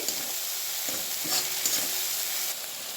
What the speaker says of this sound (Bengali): সেই পেস্টটা দিয়ে দিচ্ছি তেলের মধ্যে এবারে মশলাটা ভালো করে তেলের সঙ্গে কষিয়ে নেব